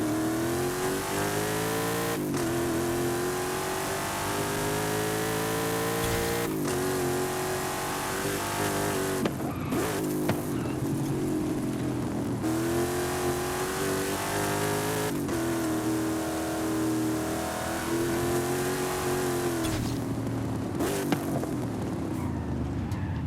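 Car engine in Forza Horizon 5 revving hard as it accelerates through gears, a loud, steady drone with rising pitch sweeps broken by brief shifts, continuous throughout with no talk.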